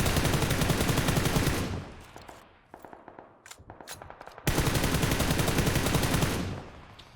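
Hip-fire gunshots in PUBG: a sustained rapid burst of automatic fire, loud and close, then a short pause with scattered single shots and clicks before another long continuous volley that cuts off abruptly.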